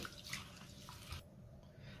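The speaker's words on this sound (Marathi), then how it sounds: "मी 3 ते 4 पाण्याने डाळ तांदूळ स्वच्छ धुवून घेणार आहे।" Chana dal and rice being washed in water for dal khichadi: a continuous soft sloshing and trickling of water, close and steady, without speech.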